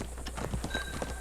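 Horse hooves clip-clopping in the online mode of the video game Red Dead Redemption 2, a steady run of close hoofbeats lasting about a second over a faint game background.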